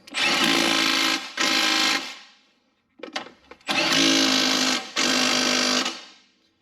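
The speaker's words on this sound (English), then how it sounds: "we're going to use our gun here to start that one" A small impact gun drives transmission bolts down on a Ford with a tilted engine. It fires in four loud, steady bursts of about a second each, with a short cluster of brief taps in the gap between the second and third.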